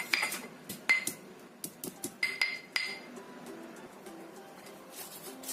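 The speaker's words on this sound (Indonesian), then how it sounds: "Kemudian kita ulek halus." Ingredients are pounded and ground in an Indonesian ulek stone mortar and pestle, giving a series of sharp, irregular clinking knocks followed by softer scraping, close and fairly quiet.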